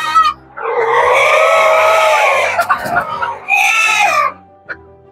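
Chickens of a shiny-feathered, untrimmed-beak meat breed on a poultry farm give loud, harmonic squawking calls that fill most of the stretch, with a second burst near the end and a faint cluck at the close.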